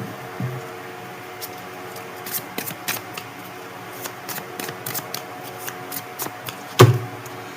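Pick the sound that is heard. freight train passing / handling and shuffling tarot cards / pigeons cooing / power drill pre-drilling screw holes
handling and shuffling tarot cards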